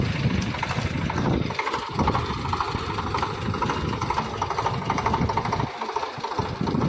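A tractor engine runs steadily nearby on a farm, hauling a load of manure, a continuous rumbling drone with low chugging throughout and no one speaking.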